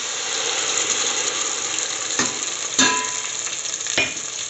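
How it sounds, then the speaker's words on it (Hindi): Tomato puree hits onions that have been frying to light brown, giving a continuous loud sizzle with a few sharp spoon clinks against the pan, no voices. "तो चलिए अब इसमें टमाटो प्यूरी डाल देते हैं"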